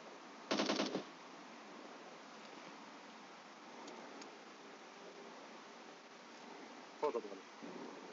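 Machine-gun fire in the mobile battle-royale game PUBG Mobile: a short rapid burst near the start and a second brief burst near the end, over quiet game ambience.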